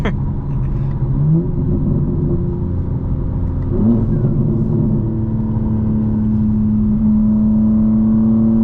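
A 2025 BMW M4 Competition xDrive with a custom transmission tune accelerates hard through quick gear shifts, its engine note loud and close inside the cabin, rising in pitch with abrupt drops at each shift before settling into a steady droning climb.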